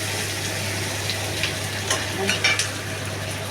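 Onion and green chilies frying in a pan, a steady loud sizzle with a low hum underneath and a few scraping stirs, close up and free of talk.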